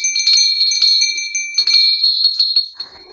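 Several small bells from a gifted collection ring together in a bright, close, rapid jingling that keeps pulsing for about three seconds, then tapers off.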